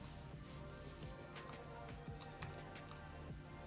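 Quiet, rapid keystrokes on a computer keyboard as text is typed in editing software, a soft irregular patter of clicks with a few sharper taps, no talking.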